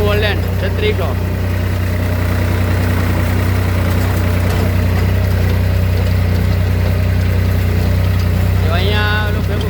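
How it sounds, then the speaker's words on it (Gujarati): Two New Holland 3600 tractors run in a farm field, giving a loud, steady low diesel rumble with a constant droning hum. Faint voices can be heard under the engine noise. "જો એક સાથે 2 ટ્રેક્ટર ન્યૂ ઓલેન્ડ 3600."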